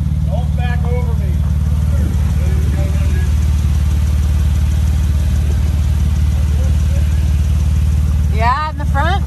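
A Jeep engine idles steadily at close range while the vehicle backs up, a constant low rumble running the whole time with voices talking over it.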